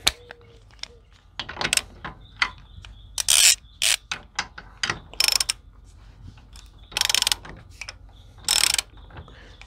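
An AC Delco digital torque adapter ratchets in short bursts of quick metallic clicks while tightening toward 30 foot-pounds, with pauses and a few beeps between strokes, close and fairly loud without talk.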